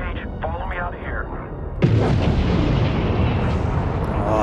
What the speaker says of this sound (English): Oh, that's such a nice explosion.